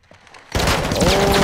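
Loud, unsuppressed automatic gunfire in the Call of Duty Modern Warfare 2 campaign erupts suddenly after a quiet moment and keeps going as a dense, continuous burst.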